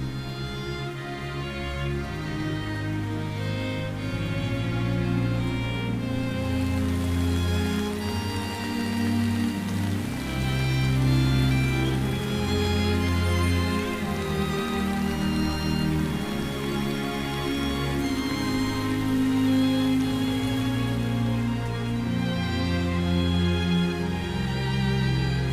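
Steady rain falls and patters on surfaces, a continuous dense hiss of drops that stays even throughout with no voices.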